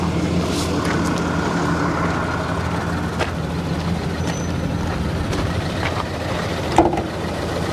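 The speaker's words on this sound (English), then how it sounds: "Check engine light just started flashing, so we have a hard misfire now." A Toyota Tundra engine runs steadily with a hard misfire, giving a rough, continuous low rumble with faint irregular knocks and one brief louder bump near the end.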